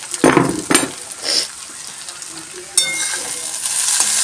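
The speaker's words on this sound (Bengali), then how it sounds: "তো চাউমিনটা নেড়ে চেড়ে ভালো করে ভেজে নামিয়ে দেবো" Chowmein noodles being stirred and fried in a pan, bursts of sizzling and clattering stir strokes close by, then a steadier hiss of frying.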